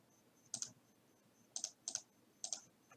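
Several quiet clicks of keys on a computer keyboard, arriving in short irregular clusters of one or two presses separated by pauses, close and isolated with no talk.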